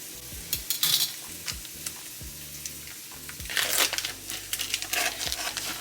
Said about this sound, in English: While the bacon is frying